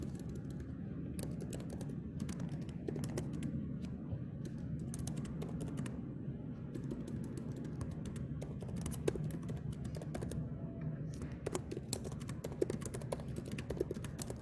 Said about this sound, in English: So we can just type